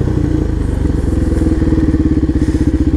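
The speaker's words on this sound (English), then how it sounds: "Slipping the clutch, I'm using that rear brake to bring the wheel down." Supermoto motorcycle engine during a wheelie as the rider slips the clutch and uses the rear brake to bring the front wheel down, a loud, close, rapidly pulsing single-cylinder thrum running throughout.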